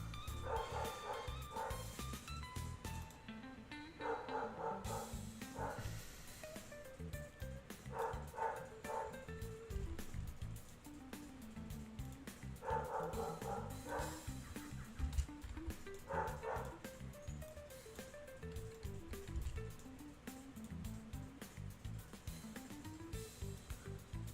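A house dog barks in scattered bursts of yips and woofs, recurring every few seconds over a continuous bed of background music.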